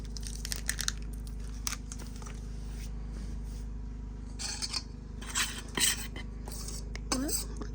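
Dry pizza crust ingredients stirred in a bowl, with scattered scraping and clinking of utensil against the bowl over a steady background hum, irregular and close.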